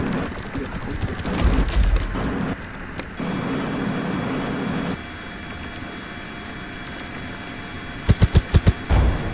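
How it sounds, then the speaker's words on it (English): Video game gunfire in a bot-wars sniper match: dense, irregular bursts of shots through the first few seconds, a steadier sustained rumble in the middle, then a quick cluster of sharp, loud cracks near the end. "He's shooting me."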